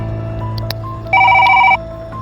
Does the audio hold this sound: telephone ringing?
yes